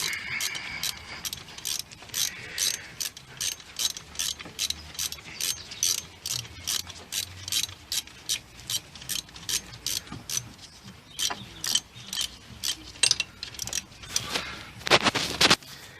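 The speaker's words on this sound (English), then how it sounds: "bolts in the holes. Let's just do them up." A ratchet wrench tightens bolts on an alternator bracket of a 1.6 VW Beetle, producing close bursts of rapid clicking separated by brief pauses, with heavier clicks near the end.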